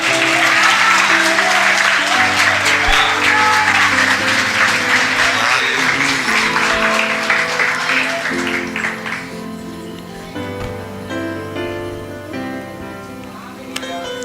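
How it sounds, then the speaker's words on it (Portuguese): Loud, sustained applause from a church congregation during a Sunday evening service, clapping thick and continuous over sustained music, gradually thinning and fading toward the end. "Você pode dar uma salva de palmas para ela?"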